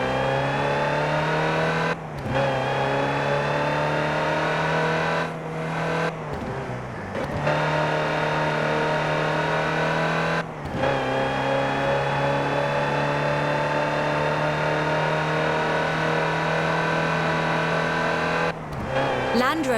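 Land Rover Type 3 utility truck engine driven in the racing game Forza Horizon 4, a steady loud drone with rising revs, cut by brief gear-change or throttle dips every few seconds, under a voice talking.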